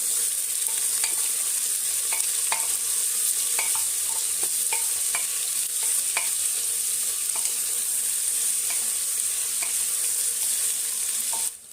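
Onions fry in oil for mutton curry while being stirred, with a constant close sizzle broken by regular spoon scrapes and taps against the pan, and no talking.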